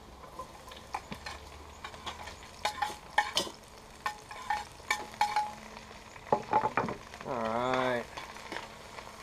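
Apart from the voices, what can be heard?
mushrooms and onions frying in a pan on rocket stove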